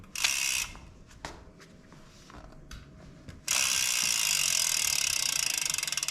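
A folding 20-inch minibike's freehub ratchet gives sparse, separate clicks before breaking into a loud, fast, steady buzz of clicking as the wheel spins freely, with no one talking.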